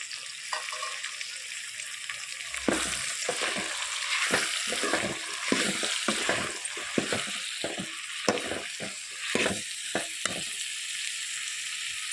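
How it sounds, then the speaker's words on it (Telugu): Drumstick and cucumber pieces sizzle in a hot tempering, a continuous frying hiss broken by repeated bursts of a spoon scraping and stirring through the pan, close and fairly quiet, with no speech. "తాలింపులో యాగాలి మునక్కాయ ముక్కలు మగ్గిని పది నిమిషాలు ఇప్పుడు దోసకాయ ముక్కలు వేసుకోవాలి"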